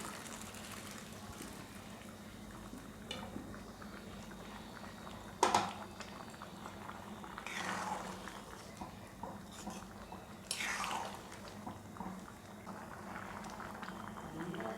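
Ghugni with peas and chopped green chillies simmers in a pot, giving a continuous soft bubbling with occasional louder pops and plops, close and fairly quiet.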